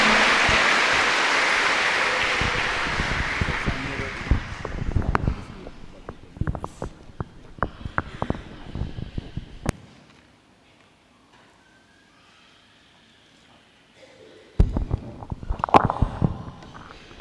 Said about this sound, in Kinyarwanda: Dukoma amashyi menshi cyane dushimira Imana